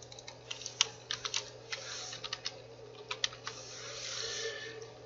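Keys clack on a computer keyboard in uneven bursts of distinct taps over a steady low hum, with a brief pause and a soft rustle toward the end.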